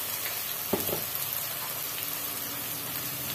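Masala for egg curry fries in a pan with a steady close sizzle and crackle, a couple of brief spoon taps near the start, and no talk.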